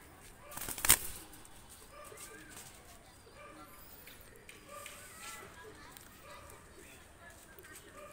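Pakistani pigeons are released, with a sharp burst of wing flapping near the start followed by soft intermittent cooing and bird calls, under a voice.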